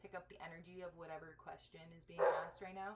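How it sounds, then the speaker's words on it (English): Pet dogs frightened by thunder bark and whimper in the background while a person talks continuously over them, with one louder yelp near the end. "Sorry about my dogs. They don't like thunder."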